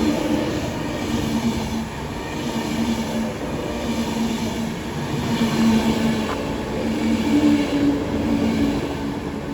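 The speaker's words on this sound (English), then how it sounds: "Sounds like it has a flat wheel on one of those carriages at the back." A train passes through Milton Keynes Central on the West Coast Main Line, with a flat wheel on one of the rear carriages; a loud, close, steady rumble of rolling wagons with a faint rhythmic thumping and occasional squeal.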